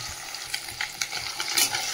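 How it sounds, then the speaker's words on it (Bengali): Fish pieces frying in hot oil in a home kitchen pan, a steady crackling sizzle with a few brief louder spatters and stirring scrapes throughout, no voices. "যে এই মাছগুলো ভেজে তুলে নিই, আর বাকি মাছগুলো ভেজে নেবো।"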